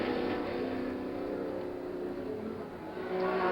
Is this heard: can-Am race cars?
yes